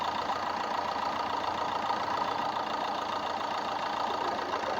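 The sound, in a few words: car engine idling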